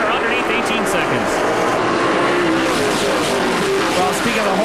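Race cars roar around a short oval track as the field laps under caution, engine noise loud and continuous with crowd and commentary-like voices mixed underneath.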